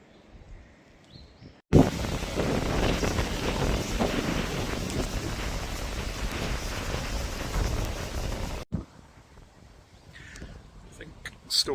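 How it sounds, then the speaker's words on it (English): Strong wind in Somerset, England, roars against the microphone for several seconds as a storm approaches, loud and gusty between quieter stretches at the start and end. "Storm Amy's nearly here because it's getting windy."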